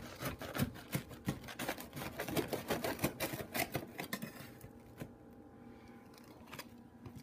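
A knife saws through a crispy hero sandwich in a quick run of close, crunchy crackles for about four seconds, then it falls to faint quiet.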